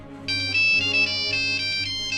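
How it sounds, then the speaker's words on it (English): A phone ringtone plays a loud, steady electronic melodic tune of repeating bright tones, close and alone with no talk over it. "Sir, I think your phone is ringing."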